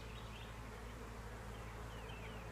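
Honeybees buzz in a dense, continuous drone during a beehive inspection, a steady close swarm sound with no talking.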